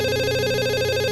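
A telephone at a police station rings with a steady electronic tone, close, loud and continuous throughout, with no voices.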